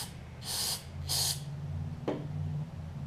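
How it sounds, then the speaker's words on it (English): Carburetor cleaner sprayed into the main jet of a Craftsman push mower's Tecumseh carburetor: two short hissing bursts close by, then a brief sharp tap, over a low steady hum. "Spray it up through the main jet."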